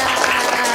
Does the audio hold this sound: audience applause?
yes